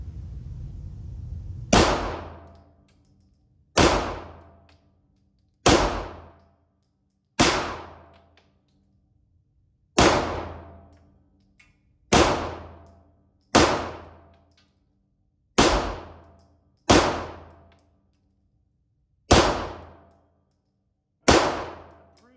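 Single pistol shots from a Beretta Langdon Tactical Elite 92 fitted with a red dot, about eleven sharp reports spaced roughly two seconds apart, each with a short decaying tail and no talking.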